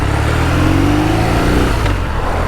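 A 2021 BMW R NineT motorcycle's torquey engine runs steadily while riding on country B roads, a loud, continuous mid-range drone with wind rush and a slight pitch rise through the middle, no voices.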